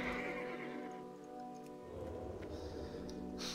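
A horse neighs in World of Warcraft, a drawn-out whinny with a faint ticking in the background, fairly quiet and heard alone without talk.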